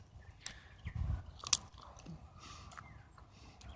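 Fresh garden arugula is chewed right at the microphone, giving a few soft, crisp crunchy bites followed by quieter mastication, with no talking.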